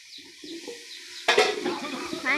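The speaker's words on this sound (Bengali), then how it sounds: "এই যে গোস্ত গেল" Meat dropped into a hot pot for biryani: a sudden sizzle and clatter that settles into steady frying crackle after a quiet start with faint background sounds.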